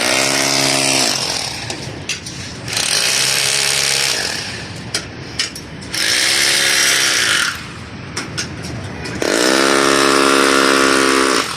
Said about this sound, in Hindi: आज ड्रिल कर रहे हैं, कल रावल बोर्ड लगाएंगे।